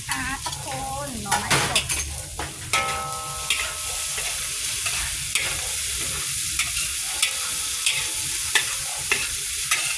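Pork balls and fresh bamboo shoots stir-fried in a pan, with steady sizzling and repeated scraping and clanking of a utensil against the pan, close and continuous.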